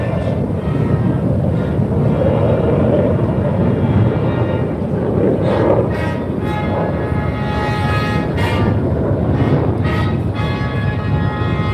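US Air Force Heritage Flight aircraft roar past at an air show, a loud continuous broadband engine rush that swells and shifts in pitch, with wind buffeting the microphone.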